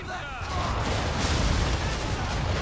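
Ship cannons fire in a naval battle in the video game Assassin's Creed 3, a continuous rumble of heavy booms and rolling blasts with a rising crash in the first half-second.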